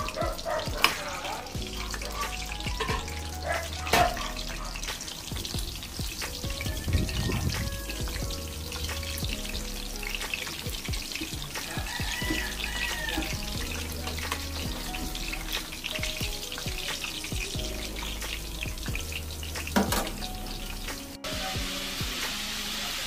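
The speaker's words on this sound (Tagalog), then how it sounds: "Ayan, magpiprito na tayo, guys, ng dynamite." Dynamite chili rolls fry in hot oil with a continuous hissing sizzle and scattered pops, joined by music playing in the background throughout.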